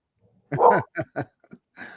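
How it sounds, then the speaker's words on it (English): Dogs bark out a window, a short burst of several yelping barks at close range, one long then a few quicker ones, with quiet gaps between. "my dogs in the background are now barking out the window."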